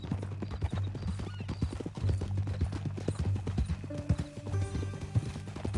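Horse hooves clip-clop in a steady, close rhythm in Red Dead Redemption, with an occasional whinny and a few short game sounds over the trotting.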